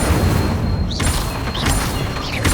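An Incendio fire spell in Hogwarts Legacy bursts out in loud, dense crackling blasts over constant noisy combat ambience, with a few short whooshing rises between hits.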